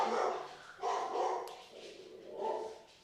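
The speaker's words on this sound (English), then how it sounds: "That's my dog." A pet dog barks indoors in three muffled bursts, fairly faint and spaced about a second apart, with no one talking over it.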